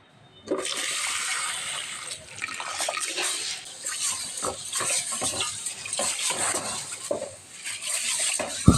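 Water gushes and splashes as cooked rice is drained in a home kitchen, followed by clanks and scrapes of pots while dal curry is prepared; the pouring comes in uneven surges close by, with no speech.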